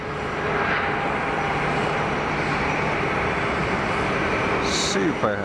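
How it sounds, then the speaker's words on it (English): A quiet Airbus A320neo-family airliner departs from Geneva Airport, its engines a steady, moderate roar with a faint whine in the distance. Noise stays constant throughout and a brief clatter sounds near the end. "Super low noise footprint departure."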